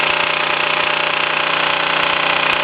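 A 1965 Mamod SE1 toy steam engine runs steadily close by, giving a dense continuous hiss with a fast, even mechanical chuffing beat underneath and no talking.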